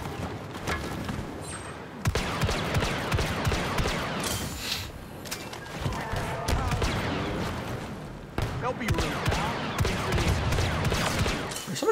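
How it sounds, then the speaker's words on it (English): Rapid gunfire bursts and heavy thuds from a Star Wars Battlefront 2 battle crackle almost without a break, with short pauses, loud and dense, while players talk over the shooting. "it's just shots coming from over here"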